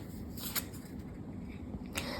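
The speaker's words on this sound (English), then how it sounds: "I'm going to shuffle on camera." A deck of oracle cards being shuffled in a quiet room, soft papery riffles with a couple of brighter flicks, faint and close.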